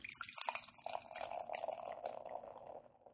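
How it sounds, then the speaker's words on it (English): Beer pouring from a bottle into a glass, a steady light splashing and gurgling stream that runs alone for about three seconds at moderate level. "It's pouring."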